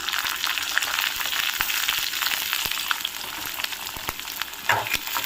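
Cumin seeds and green chillies fry in a pan for ginger chutney, producing a soft, steady sizzle with scattered crackles and a few clicks from stirring, fairly close.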